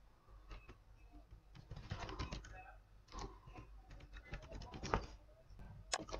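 Quiet, irregular keystrokes on a computer keyboard as card details are typed in, bursts of rapid tapping separated by short pauses, close but low in level.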